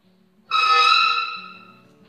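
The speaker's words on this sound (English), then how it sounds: "That was the sound of my chair." A chair gives a single sharp creak, a bright, tonal squeal lasting about a second before it fades, heard close up in a quiet room.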